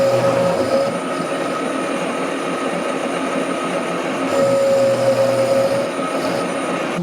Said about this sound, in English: So I'm just using my carbide 10mm cutter for this.